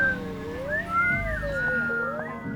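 Someone whistles a wavering, sliding melody at moderate volume over a low background hum, with the pitch gliding up and down.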